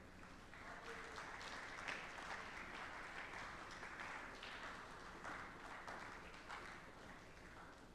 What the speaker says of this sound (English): And clap for me, okay?